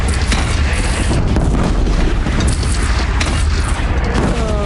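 A bridge shot down in the video game Horizon Zero Dawn collapses in a long, loud, continuous roar of crashing rubble and booming impacts, lasting throughout with no talk over it.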